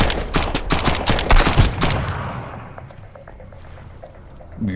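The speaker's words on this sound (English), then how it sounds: "Gotta shoot." Rapid bursts of gunfire in the survival video game Sunkenland, a dense volley of loud repeated shots for about two seconds, then trailing off into quieter ambient game sound with a final sharp shot at the end.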